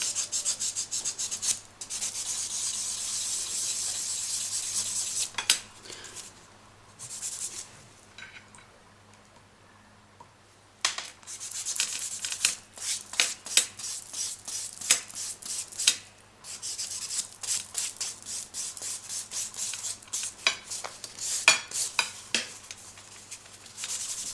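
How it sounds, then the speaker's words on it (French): A buffing block rubs back and forth over UV gel nails, producing soft, close rasping strokes in irregular bursts with a quieter pause partway through. "on va passer au bloc polissoir pour éviter d'avoir des griffes qui se voient au moment de la finition"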